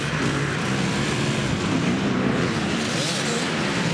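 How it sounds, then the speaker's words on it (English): A Husqvarna dirt bike rides past at a field, its engine giving a loud, buzzing roar that holds steady and close for a few seconds. "There goes Gary on that trusty Husky."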